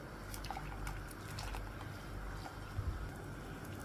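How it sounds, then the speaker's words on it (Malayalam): Heavily salted water for pickling gooseberries boils in a pot, producing a low, steady bubbling rumble with light gurgles throughout. "വെള്ളം നന്നായി തിളച്ചിട്ടുണ്ട്"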